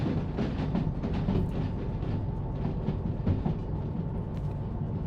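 A long freight train with tankers rolls past in the railway video game Derail Valley, a loud, steady rumble with rhythmic wheel clatter and squeals continuing without a break.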